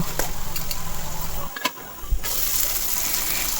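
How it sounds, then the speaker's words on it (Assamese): Potatoes and taro fry in oil in a covered pan, a steady sizzle broken midway by a brief quiet moment and a soft knock before the hiss returns. "এইদৰে আলু আৰু কচুখিনি সিজালৈকে ভাজি থাকিব।"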